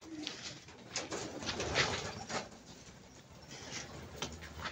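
Pigeons cooing in a loft: soft, repeated throaty coos at moderate distance over a steady background hiss, with faint rustling and no talk.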